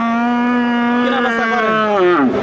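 A Friesian bull at a cattle market gives one long, loud, close moo that holds steady before bending downward at the end.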